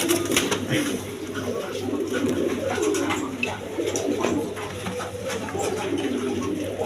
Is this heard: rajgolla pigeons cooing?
yes